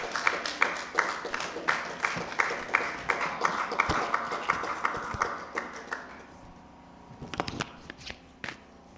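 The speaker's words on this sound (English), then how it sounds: "can we give him a round of applause, please?" Clapping greets a nurse at a nursing conference and awards event, an even, rhythmic beat of claps for about six seconds before it thins into a few scattered, sharper knocks.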